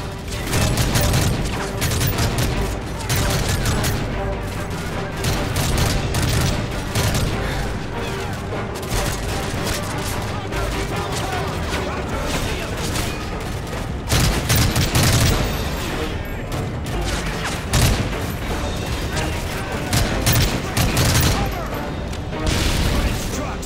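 Sustained gunfire and booming blasts from a Call of Duty: Modern Warfare 3 PC firefight, dense and loud throughout with repeated bursts and heavy impacts, speech mixed in amid the combat.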